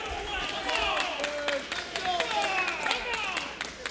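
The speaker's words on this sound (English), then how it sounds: "Kind of surprised that so many people are clapping for Jordan Oliver right there." Crowd at a CZW wrestling event claps for Jordan Oliver, a steady patter of scattered applause with whistles and shouts rising through the arena noise, moderately loud and continuous.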